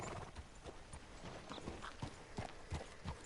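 A horse in Red Dead Redemption 2 clip-clops along with steady, close hoofbeats and a brief whinny, heard alone without talk.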